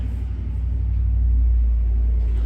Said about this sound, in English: sorry about the noise, our truck is passing by